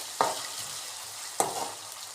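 Ginger and garlic fry in a pan under a steady, close sizzle, broken by two sharp stirring scrapes about a second apart.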